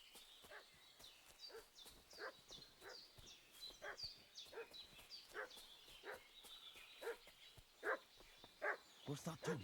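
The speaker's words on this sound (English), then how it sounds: "What's that dog making such a fuss about?" A dog barks and whimpers in repeated short bursts in an adventure video game, fairly quiet and spread across the scene over a soft ambient backdrop, with an owl-like call near the end.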